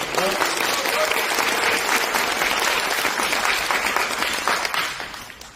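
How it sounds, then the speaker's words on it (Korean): Loud, steady applause from an indoor audience welcoming a speaker at an insurance company lecture event, sustained for several seconds and tapering slightly at the end. "큰 박수로 모시겠습니다"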